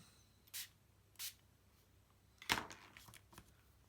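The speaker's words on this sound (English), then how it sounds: "you could take a spritzer and spritz it a little bit" A spray bottle spritzes water onto a watercolor painting in short, close hissing puffs, two spaced bursts and then a quicker cluster of sprays, in a quiet room.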